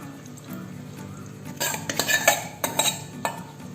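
A spoon clinks and scrapes against a metal pot as cooked moong dal is stirred into vegetables, with several bursts of clattering close by and no talking.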